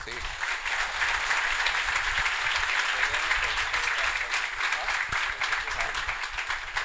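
Dense, loud applause from an audience honouring women at a birthday celebration for Acharya Maharajshree fills the whole stretch, with a voice briefly audible over the clapping.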